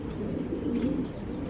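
A tiger pigeon, a female touched by hand, gives a low continuous cooing that stays steady and close throughout, with no talk over it.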